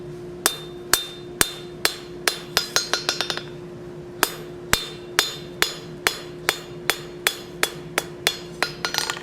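Blacksmith hammering hot steel to draw a taper for a plant hanger, with sharp, ringing metallic strikes in a steady rhythm. A quick flurry of blows comes early, then evenly spaced hits continue, close and loud, with no talk.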